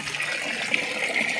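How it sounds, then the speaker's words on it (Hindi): Mustard greens (saag) washed by hand in a vessel of fresh water, with a steady close splashing and running-water wash across the whole moment and no talk. "मीठे पानी से वॉश हो रहा है यहाँ पे साग"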